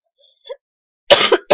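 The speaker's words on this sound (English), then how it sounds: "I gotta cough right now." One short, sharp cough up close, followed by a second brief cough.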